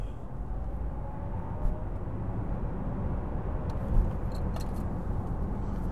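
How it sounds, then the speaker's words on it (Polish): Electric VW ID.7 GTX Tourer pulling away hard from a standstill with no launch control, heard as a low rumble of tyre and road noise that swells steadily, with a couple of faint knocks and no voices. "nie będziemy robili mu takiego typowego launch control z nogą na hamulcu lewą, tylko po prostu ruszymy"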